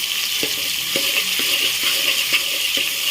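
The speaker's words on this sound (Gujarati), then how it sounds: "આપણે ડુંગળી અને ટમેટા અને મરચાં આપણે તેલમાં ચડવા દેવાના છે" Onion, tomato and chillies frying in oil, a steady loud hiss of sizzling with soft regular stirring knocks about every half second, close up and without any talk.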